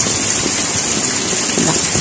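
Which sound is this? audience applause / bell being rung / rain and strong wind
rain and strong wind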